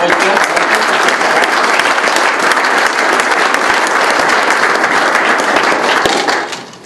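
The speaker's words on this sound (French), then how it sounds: "On peut les applaudir." Loud, dense applause from an audience at an evening event, sustained even clapping that cuts off abruptly near the end.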